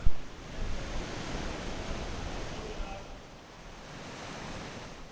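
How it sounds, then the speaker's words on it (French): Ocean waves breaking steadily on the coast at Kribi, a broad continuous wash of surf with a stronger surge at the start, fairly close and alone. "L'océan, qui pour vos yeux s'étend à l'infini, déversant ses vagues successives sur la côte"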